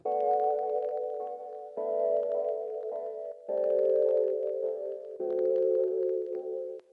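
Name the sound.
warbly vintage synth pad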